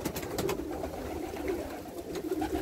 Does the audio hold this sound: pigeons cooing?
yes